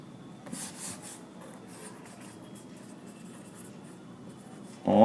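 Steady scratchy strokes of writing on a board during a science class on equations of motion, a continuous close rasp with small pauses and a louder scrape at the end.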